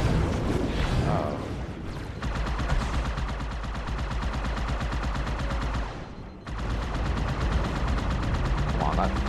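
Rapid automatic gunfire and heavy weapon blasts from the Halo 2 Anniversary video game on Legendary difficulty, loud and nearly continuous with a brief pause, mixed with game effects.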